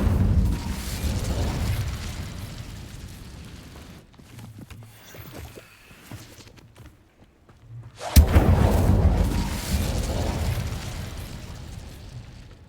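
An Incendio fire spell effect bursts out in a deep whooshing roar, then fades to quiet rumbles before a second loud fiery blast swells and sustains toward the end.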